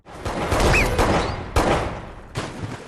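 Three sharp gunshots ring out in a dramatic film scene, each followed by a rumbling echo that fades.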